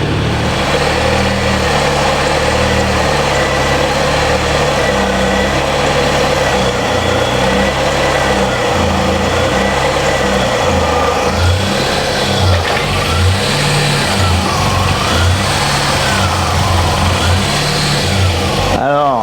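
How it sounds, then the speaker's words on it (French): A Ford Mustang engine runs with an unstable idle, a steady mid-pitched rumble that wavers and surges slightly, heard close alongside someone talking. "Il y a du ralenti instable là"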